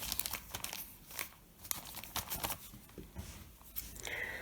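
A paper envelope holding a banknote parcel with dense cardboard packing is torn and opened up close, with repeated crinkling, rustling and tearing bursts throughout and no talking.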